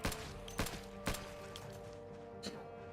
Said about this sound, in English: Gunshots are loud. Definitely heard it.